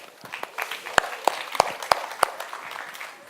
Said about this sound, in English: Okay, let's give them another clap.